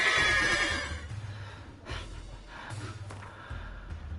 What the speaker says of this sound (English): I can't get past those stupid horses